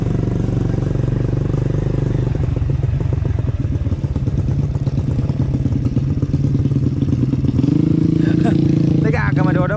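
A Honda CD motorcycle engine runs steadily while riding on a road in Soppeng, South Sulawesi, a loud continuous mid-pitched drone with rattling clatter, shifting slightly in tone near the end, under a man's speech.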